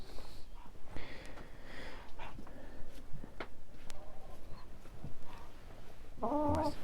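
Bielefelder chickens cluck softly and intermittently close by, with a few snorting and sniffing sounds, while someone speaks gently to the hens.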